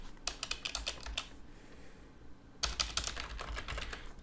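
Quiet computer-keyboard typing comes in two quick bursts of clicky keystrokes, separated by a short pause, close up with no talking.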